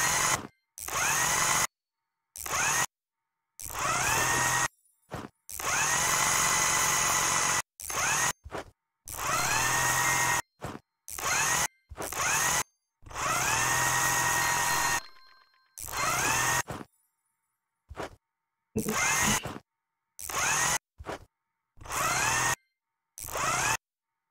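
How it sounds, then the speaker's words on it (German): A power drill fastens screws in the House Builder video game, giving many short whirring bursts of varying length in an uneven rhythm, loud and close with silent gaps between. "machen da noch die Schrauben fest"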